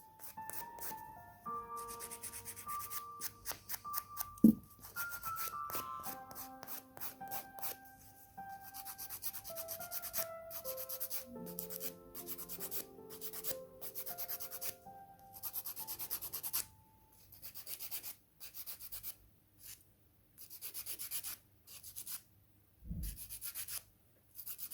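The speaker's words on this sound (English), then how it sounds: "Just file over where the gel is." A nail file rasps back and forth over gel nail polish in steady, close strokes, with a melodic music track playing underneath throughout.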